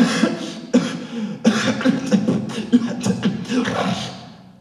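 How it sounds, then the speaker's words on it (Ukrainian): A string of harsh, repeated coughs in quick bursts, close and loud, with short gaps and raspy voiced strain between them. "У мене кашель нестандартний."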